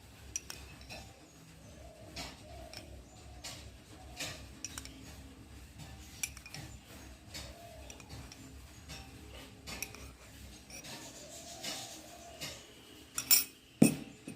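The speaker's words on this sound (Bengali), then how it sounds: "এখন খুব ভালো করে মেশাবো" A spoon stirring Oreo cake batter with milk in a bowl, soft repeated scraping and light clinks of metal on the bowl in an even rhythm, close by, ending in a few louder knocks.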